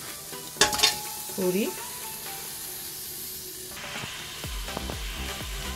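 Mutton pieces going into a pressure cooker set on a gas stove, giving a steady close sizzling hiss with a few knocks and clatters toward the end.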